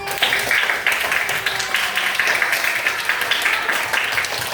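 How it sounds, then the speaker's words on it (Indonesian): Students in a classroom clap for their classmates' group posters, a loud, dense patter of many hands filling the room without a break, close by. "Tepuk tangan untuk masing-masing"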